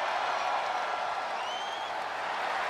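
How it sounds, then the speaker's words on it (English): Wrestling match crowd cheering fills the space with a dense, steady roar that holds at one level throughout, with no clear breaks. "The sound of this crowd is deafening, and he's asking for more."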